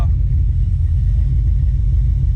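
An old hot rod Chevy S10 pickup engine idling, a heavy, steady low rumble with a slight pulsing throb, close and loud, nothing else heard.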